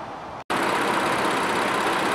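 A Nissan Pathfinder's 3.5-liter V6 engine idles in a steady, even hum, close and moderately loud, broken by a split-second dropout near the start before the smooth drone resumes.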